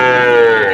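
A single loud, close bleat-like call rings out amid the bustle of a weekly village cattle market where local cows are traded, the sustained tonal cry lasting under a second.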